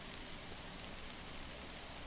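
Steady rain falls as a dense, even hiss, unbroken and uniform throughout, with no voices or other sounds.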